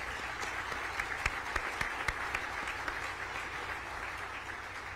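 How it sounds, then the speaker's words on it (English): Steady applause from an audience at a mayor's state of the city speech in Lincoln, a dense wash of clapping with a few sharper claps standing out, held at an even level throughout. "we can applaud for that"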